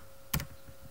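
Two quick, close clicks follow each other almost at once as the tab key is double-pressed on a computer keyboard in a quiet room.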